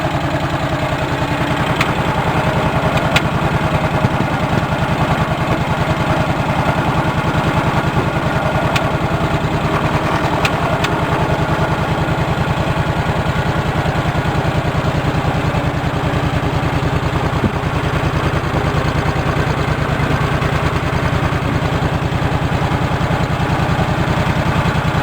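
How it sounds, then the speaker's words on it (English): A Cub Cadet 1650 garden tractor engine idles steadily at close range through a homemade muffler, a continuous low rumbling exhaust with an even putter and no break for the whole stretch. "I think the exhaust sounds pretty good on it."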